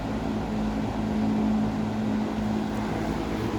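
A Berns Air King 20-inch box fan, model PR-20S, runs steadily with a low motor hum and constant broadband whoosh of moving air, an even, continuous drone with no talking.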